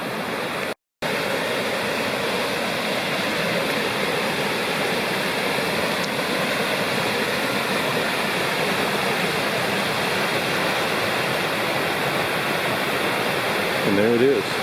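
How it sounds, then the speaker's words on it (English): A small waterfall on a creek in the Lost Cove Wilderness pours with a steady, broadband rushing hiss that stays constant throughout, with one brief dropout near the start. "And there it is, another great waterfall"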